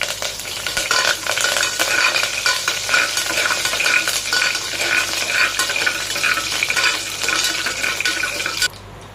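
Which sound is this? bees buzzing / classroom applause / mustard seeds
mustard seeds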